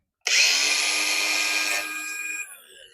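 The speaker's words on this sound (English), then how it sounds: "let's get that little bit of panel cut off." A loud, steady high-pitched whine of a power tool cutting through a Triumph GT6 car body panel, starting abruptly and running about two seconds before winding down.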